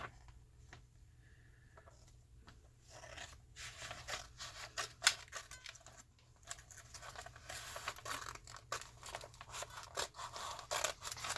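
Repeated snipping and crisp slicing of dull scissors through paper, a steady run of close cuts and rustles with no talking.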